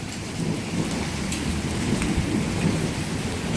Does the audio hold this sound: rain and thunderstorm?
yes